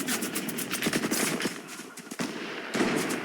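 Gunfire in the video game Fortnite, loud rapid bursts of automatic shots crackling close by, broken by short gaps, with a faint tail after each volley.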